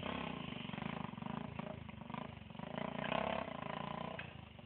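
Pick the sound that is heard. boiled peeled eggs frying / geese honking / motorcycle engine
motorcycle engine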